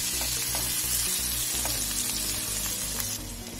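Garlic cloves and two green chillies cooking in melted butter, a dense steady sizzle with light stirring taps, close and uninterrupted, without any speech.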